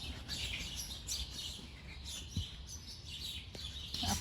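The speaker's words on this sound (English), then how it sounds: "Do you hear all the birds?" Birds chirp and tweet throughout inside a Lowe's store, scattered high calls echoing in an enclosed space over a steady background hum.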